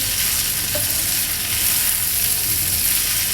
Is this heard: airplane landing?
no